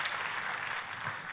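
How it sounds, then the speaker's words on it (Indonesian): Brief burst of church audience applause, a steady wash of many hands clapping at moderate volume with no voices. "kalau mau tepuk tangannya boleh paling meriah buat Yesus Tuhan kita"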